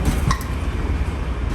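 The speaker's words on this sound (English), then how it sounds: "This train is leaving the station." An underground airport terminal train pulls away from its station, a steady low rumble of rail travel with a faint metallic clink near the start, heard from inside the car.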